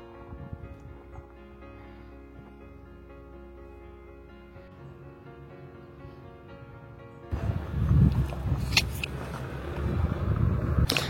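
Cars arriving on a narrow mountain road in Albania, a steady engine hum that swells into louder, closer passing traffic with rumbling bursts toward the end.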